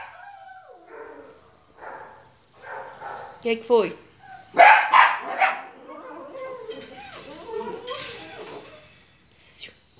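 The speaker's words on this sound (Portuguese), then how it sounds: "É, tem cachorro lá fora." Dog barking outside a home, several yips and barks standing out between a woman's speech, moderately close and loud at times.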